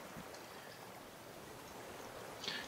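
Rain in the survival game Raft, a soft continuous patter and watery wash at low volume, steady across the short stretch with a faint brighter splash near the end.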